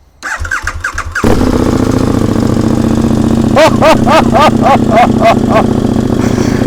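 A KTM Super Duke 1290 engine cranks and fires up, settling into a loud, throaty idle with several sharp revs from a deep, aggressive aftermarket exhaust.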